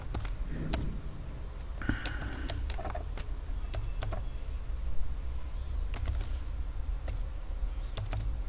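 Code is typed on a computer keyboard as irregular, close key clicks and taps over a low steady hum, with short pauses between bursts and no speech.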